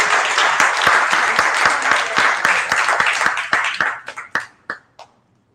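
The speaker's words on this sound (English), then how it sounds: "one more huge round of applause for all 5 of these founders" Applause for startup founders at a founders showcase event, dense clapping that thins out near the end into a few scattered individual claps before stopping.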